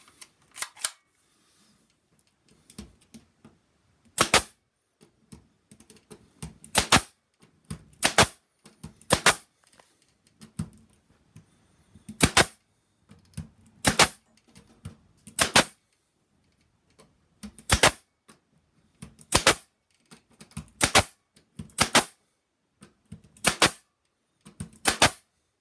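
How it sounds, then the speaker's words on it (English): Brad nailer driving short 5/8-inch brads into a small cedar tree trunk: sharp, loud single snaps, often in quick pairs, spaced irregularly across a long stretch of quiet with no talking. "then we're going to shoot it with a brad nail"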